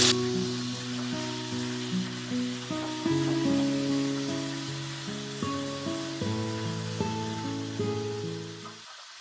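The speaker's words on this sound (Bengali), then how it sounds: "এবার হয়ে গেছে, মাছটা উল্টে নিচ্ছি।" Ganges hilsa fish, freshly flipped, sizzles in hot oil in a pan with a close, continuous crackle. A musical backing plays beneath it, and there is no talk.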